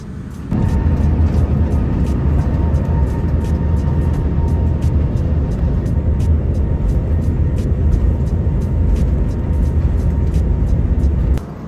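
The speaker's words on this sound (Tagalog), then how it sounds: "umaandar na ang eroplano. Kaya umaalog-alog na tayo." Steady, loud rumbling engine drone inside a Cathay Pacific airplane cabin as the plane taxis, with faint rattling ticks throughout, continuous and close.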